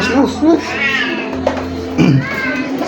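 Several stray cats fed daily at a home give loud, close meows and drawn-out wails, with a steady electrical hum underneath and a person's voice heard briefly between the cries.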